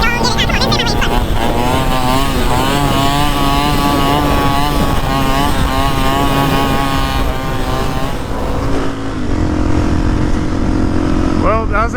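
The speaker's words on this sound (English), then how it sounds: "Well, that was a nice little warm-up wheelie." A motorcycle ridden in a warm-up wheelie on a cold, flat-worn rear tire roars loudly throughout, its engine pitch rising and falling, with a rider's voice partly under the engine noise.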